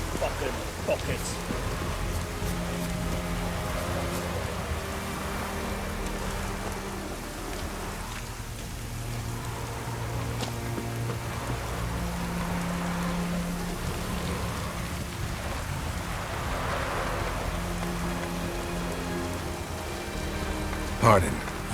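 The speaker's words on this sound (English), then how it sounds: "Raining fucking buckets." Heavy rain pours steadily throughout, a dense, even hiss of drops on surfaces during a stormy scene, with a low hum beneath and faint voices in the background.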